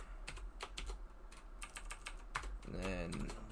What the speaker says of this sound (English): Typing, huh?